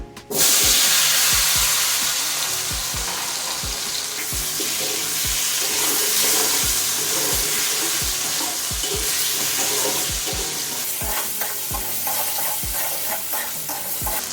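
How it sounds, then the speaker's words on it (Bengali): Turmeric-salted potatoes fry in hot oil in a wok with a steady loud sizzle, broken by frequent scraping stirs and clanks of the spatula against the metal. "অল্প আছে বেশ খানিকটা সময় ধরে আলুগুলো ভেজে নেব"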